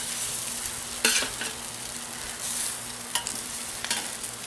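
Fish cake patties sizzle in hot canola oil in a pan, a steady close frying hiss broken by a few sharper crackles and spatters as they settle in.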